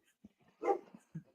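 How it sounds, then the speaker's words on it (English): Dogs bark in the background: a few faint, distant yaps and one louder bark in short separate bursts over a quiet room. "I've got the very back, like little background of them barking, but barely."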